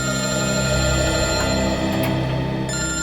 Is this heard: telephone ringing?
yes